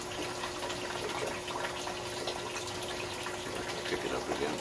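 Water flushed from a house in Berlin, New Hampshire, rushes steadily through a sewer pipe during an inspection, a continuous gushing flow with a faint steady hum and quiet voices in the background.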